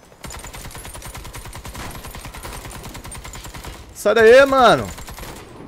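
Rapid automatic gunfire rattles steadily from a weapon in the online shooter Warface on a new Christmas map. A voice breaks in near the end over the shooting.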